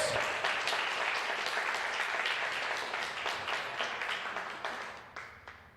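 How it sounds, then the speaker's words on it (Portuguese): A church congregation applauds during a sermon, producing a dense, steady wash of many hands clapping close by that thins and fades out toward the end. "aplauda ao Senhor"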